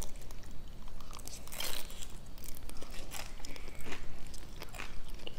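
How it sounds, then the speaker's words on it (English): Crunchy bites and chewing of cooked bean sprouts and vegetables in Nagasaki sara noodles, several close, sharp crunches scattered irregularly over low background noise. "Can you hear the crunch?"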